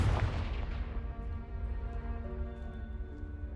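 A Confringo fire spell explodes in the Hogwarts Legacy video game: one sharp booming blast at the start, then a long rumbling decay that fades into a low ringing tail.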